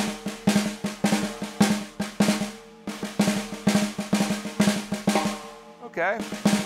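A drum kit plays a melodic pattern with quick double-stroke diddles on the main notes, crisp repeated hits in a steady groove, close and clear, with a brief pause midway.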